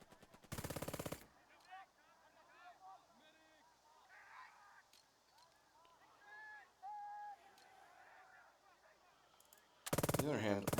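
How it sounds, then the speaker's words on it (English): Burden of Command, a WWII tactical video game: bursts of squad gunfire crackle at the start and again near the end, loud and dense, with softer battlefield sounds and brief call-like tones scattered between. "shooting at these squads has proven ineffective"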